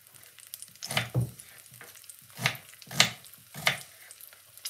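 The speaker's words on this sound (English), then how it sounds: "we're going to put some white onion" White onion dropped into a hot soup pot, giving several short bursts of sizzling and stirring scrapes, spaced unevenly over a few seconds, moderately close and with no talk.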